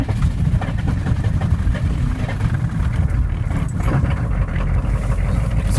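A 1996 Chevrolet Cheyenne K3500 6.5-litre diesel engine idles roughly and steadily after a cold start at minus 10 degrees, a loud low rumble with a continuous rattling chug throughout.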